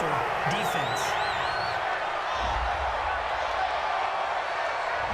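An NFL stadium crowd at a Detroit Lions vs. Philadelphia Eagles game reacts to a penalty call with a dense, sustained roar of distant voices and jeers. A brief whistle-like call rises early over the constant noise.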